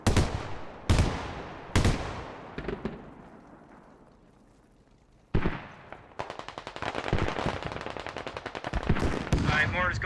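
Gunfire in a video game infantry battle with insurgents: several sharp single shots with long echoing tails, then a rapid sustained machine-gun burst crackling close and loud, with faint voices underneath.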